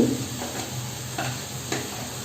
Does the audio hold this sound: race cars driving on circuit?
no